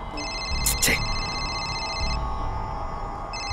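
A telephone rings in a police station, a steady electronic tone repeating with brief gaps, fairly loud over low room noise.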